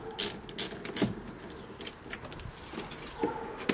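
Ratchet socket wrench with a 10 mm socket loosening the battery ground terminal on a Porsche 911 996/997 or Boxster 986/987: irregular metallic clicks and taps in short bursts, close and fairly quiet.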